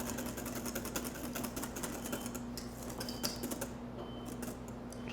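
Butter being whisked into a mixture in a bowl over a double boiler, giving a steady run of quick, light clicking and scraping strokes against a constant low hum, close and moderately loud with no talking.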